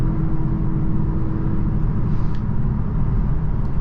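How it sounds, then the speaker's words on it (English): Hyundai Ioniq 6 electric car pulling away under acceleration, a steady loud low road and motor hum with a faint whine heard from inside the cabin, with no talking. "Very nice and responsive. Nothing crazy, but that first acceleration is nice and torquey."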